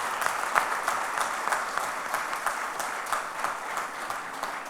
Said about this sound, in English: we'd like to give them a big round of applause